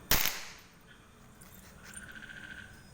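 Firecrackers set off together go up in one sharp, loud burst, then a fading crackle and faint rattling tail with a high ringing tone afterward.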